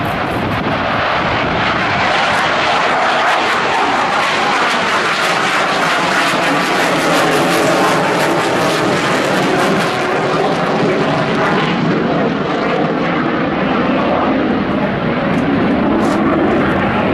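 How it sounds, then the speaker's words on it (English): An F/A-18 jet flies a touch-and-go at a naval air station airshow, its engines roaring loud and steady as throttles push forward and it climbs away, a broad sustained jet rumble without pause. "Watch him touch down, watch the throttles come forward, and he's got the power, and he goes right back up into the air."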